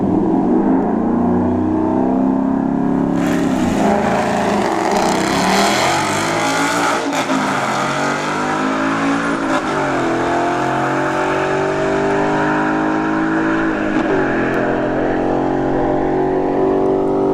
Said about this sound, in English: got the work truck, the Tacoma in the left lane, the S555O in the right lane.